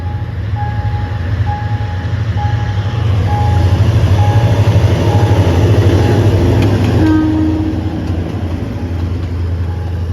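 Hitachi locomotive 4501 hauling express train 139 through a road crossing at dusk: a loud, steady low rumble of wagons rolling past close by, with ringing crossing bells pulsing throughout and no talk.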